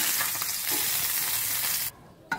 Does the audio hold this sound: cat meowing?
no